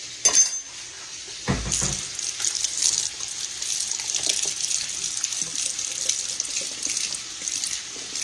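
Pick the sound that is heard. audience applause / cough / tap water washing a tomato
tap water washing a tomato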